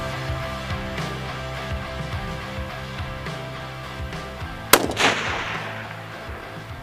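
A single long-range rifle shot fired at a 1,790-yard target cracks out sharply and loud, followed by a brief rumbling echo that decays over a second or two against a quiet outdoor background.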